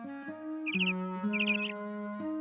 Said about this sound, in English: Miffy was awakened by the sound of a chirping bird just outside her window.